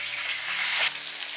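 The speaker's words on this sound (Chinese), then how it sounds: "再撒豆瓣酱。" Doubanjiang chili bean paste hits hot oil with ginger and garlic in a wok, giving a loud, steady, close sizzle with a brief surge near the end.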